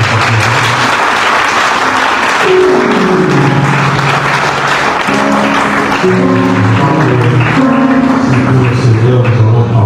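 A church congregation applauds and cheers to welcome a preacher, loud sustained clapping mixed with voices and music-like tones, crowded and close for the whole stretch.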